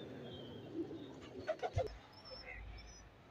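Pigeons in a domestic loft cooing softly at close range, a few low coos around the middle with faint chirps and rustling in the background.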